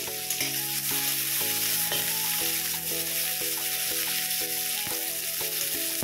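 Chopped chilli and onion fry in oil in a pan for a potato-leaf greens dish. A dense, even sizzle holds steady from start to finish, with background music underneath.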